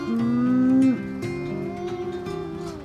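A dairy cow on a farm gives a long, close, deep moo that breaks off after about a second, followed by softer lowing and faint farm background.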